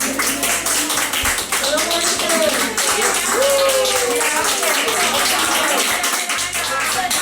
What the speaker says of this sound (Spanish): esos aplausos que durante los meses duros de la pandemia pues escuchábamos tan a menudo cuando un paciente abandonaba la UCI